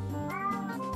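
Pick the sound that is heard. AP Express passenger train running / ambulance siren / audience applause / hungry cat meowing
hungry cat meowing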